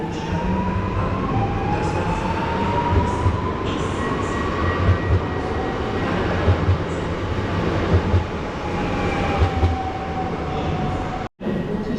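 At Kraków Główny station, the Sztygar passenger train pulls away with a steady rumble of rolling wheels, faint rhythmic clicks over rail joints and thin high wheel squeals, heard close and continuous for several seconds.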